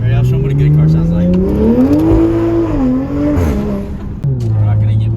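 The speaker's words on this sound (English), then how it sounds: "I'll show them what a good car sounds like." Toyota Supra mk5 with a B58 engine and flex fuel kit revving loudly up and down, a strong rising and falling engine note held close throughout with brief drops.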